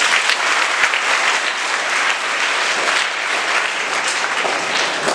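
A seminar audience of students claps hard and steadily at a motivational talk, a thick roar of hands that holds at an even level from start to finish with no talk over it.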